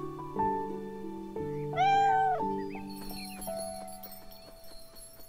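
A cat meows once, clear and close, in the video game Beyond Eyes, over soft game music with faint clip-clop sounds.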